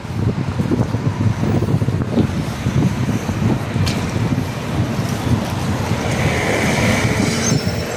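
A tram rolls along rails outdoors with a steady, loud rumble and a brief high wheel squeal, while wind buffets the microphone throughout.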